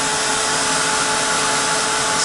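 A hair dryer blows a steady, loud broadband whoosh across mixed media on watercolor paper, running continuously through the whole moment with no talking.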